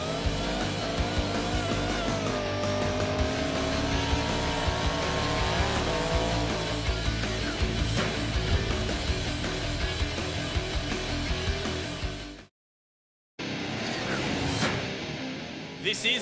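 A car doing a burnout at a Burnout Masters event at Collie Motorplex, its engine screaming steadily at high revs with tyre squeal, loud and continuous, broken by a brief silent gap before resuming.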